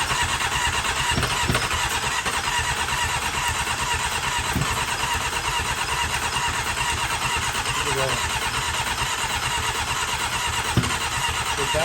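A Honda CBR motorcycle engine cranks and tries to start with only one cylinder firing, a loud continuous rough churning and sputter that runs throughout without letting up.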